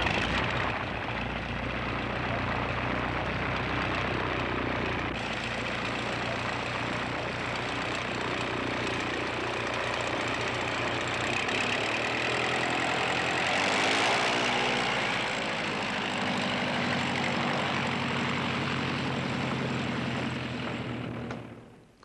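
A propeller aircraft's engine fires up and runs steadily in the far north, a loud continuous drone with rising throttle and blade pulsing near the end, heard close with no voices over it.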